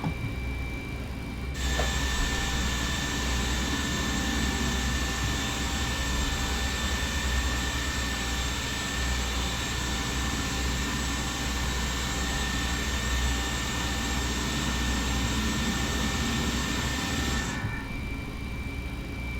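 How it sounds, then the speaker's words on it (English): Simulated Boeing 737-400 jet engine spooling up during an engine 1 start in a flight simulator: a steady, loud turbine roar with a high whine, sustained evenly for about sixteen seconds before cutting off. "we're starting engine number 1"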